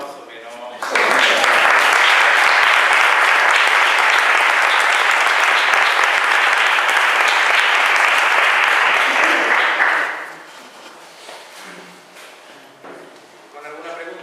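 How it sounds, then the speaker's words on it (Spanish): An audience bursts into loud, sustained applause after a lecture on media and citizens, dense clapping holding steady for about nine seconds before cutting off, followed by quieter room murmur. "primero le vamos a dar un aplauso"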